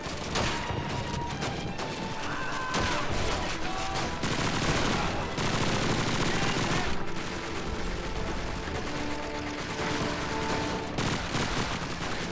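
Machine-gun fire in short bursts during a Call of Duty 2 battle, a dense, continuous crackle of rapid shots with other gunfire mixed in, loud and sustained across the whole stretch.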